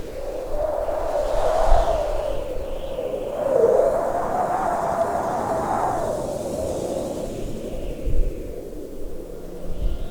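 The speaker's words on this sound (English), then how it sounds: "The howling winds buffet the exposed netch." Storm winds in Skyrim howl continuously, a wavering moan rising and falling over a thick rushing roar, with occasional low gusting thumps.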